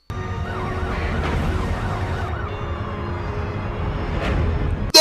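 An ambulance siren wails in a rising and falling pattern beside a road after a vehicle collision, the siren clearly heard over a low rumble of traffic.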